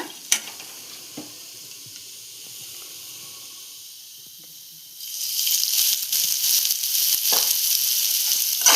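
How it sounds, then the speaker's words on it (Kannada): Cauliflower florets frying in oil in a pan for a paratha stuffing give a soft, steady sizzle. It swells to a louder, denser hiss partway through, with occasional light scrapes and clinks. "ಇದಕ್ಕೆ ಸ್ವಲ್ಪ ಎಣ್ಣೆ ಹಾಕಿ ಹುರ್ಕೊಳ್ಳೋಣ"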